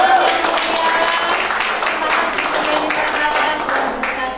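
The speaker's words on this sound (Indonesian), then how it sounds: "tepuk tangan" An audience claps at a graduation ceremony for a BWA conference in Jakarta, giving dense, sustained applause that stays loud and steady throughout.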